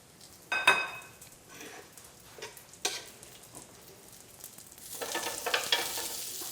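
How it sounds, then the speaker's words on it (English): Prosciutto-wrapped asparagus sears in a hot pan, a soft crackling sizzle broken by a couple of sharp clicks early on, then swelling louder toward the end. "I'm just gonna let those sear"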